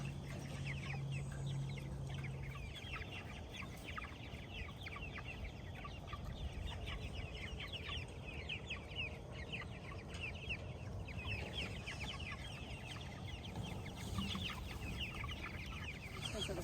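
Chickens cluck busily and continuously at close range while feeding, a dense overlapping chatter of short calls against a quiet background.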